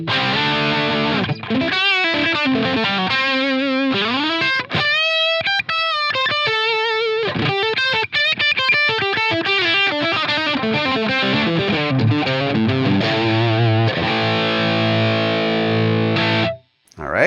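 Distorted electric guitar runs through a Line 6 HX Stomp with high and low shelf EQ, playing a continuous riff of chords and single-note runs, loud and up close, before stopping abruptly near the end.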